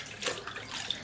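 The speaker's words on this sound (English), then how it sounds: "this water is always cold. You have to leave it to run for a bit." Cold tap water runs into a bathroom sink, a soft, fairly quiet splashing stream with faint drips over about a second.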